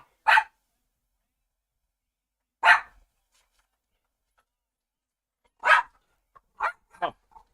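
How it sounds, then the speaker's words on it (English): A dog barks in sharp, isolated bursts, two spaced single barks followed by a quicker cluster of three, close and loud against silence. "my dog is barking"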